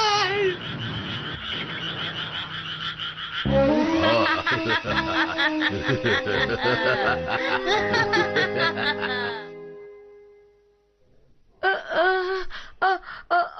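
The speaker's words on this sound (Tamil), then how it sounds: "அடடா, தவளைங்க, தவளைங்க தவளைங்க." Frogs croaking in a cartoon scene, a dense chorus of rhythmic, tonal calls that swells loudly and continuously, fades out, then returns in short bursts after a brief pause.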